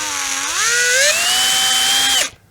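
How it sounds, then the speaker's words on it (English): A power drill fitted with a step bit spins up while cleaning out holes on an Epiphone SG guitar body, its whine rising in pitch, holding steady for over a second, then cutting off abruptly. "So I'm gonna take my drill and I'm gonna go slowly"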